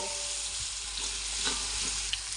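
Bay leaf and garlic paste sizzle in hot oil as a steady, close broadband frying hiss, with a few soft stirring knocks scattered through it and no voices.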